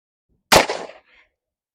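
A single sharp shot from a Smith & Wesson 38/44 Outdoorsman revolver fired one-handed at a target, loud and close, followed by a short decaying echo and near silence.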